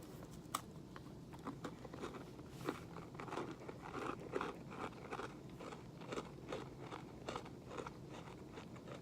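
Close crunching and chewing on a crunchy Nature Valley Oats 'n Honey granola bar, soft repeated bites and crackles, fairly faint and steady throughout.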